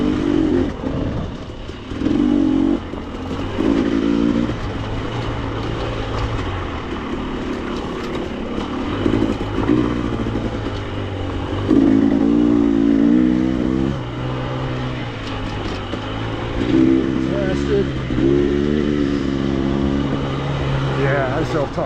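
A dirt bike engine drones steadily while riding downhill on an enduro trail in Colorado, rising and falling in pitch as the rider brakes and eases off, with a voice talking over it at times.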